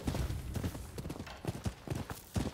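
Horse hooves clip-clop on the ground in the samurai action game Rise of the Ronin, a steady rhythmic trot of close, fairly loud hoofbeats with an occasional faint whinny.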